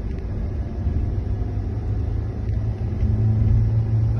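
A car engine revs in first gear on a driving lesson, a low steady rumble that builds slightly louder toward the end.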